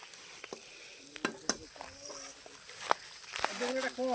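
Sliced onions fry in a pan at an outdoor New Year picnic cook-up, giving a faint, steady sizzle broken by scattered stirring scrapes and clinks, with someone talking quietly over it.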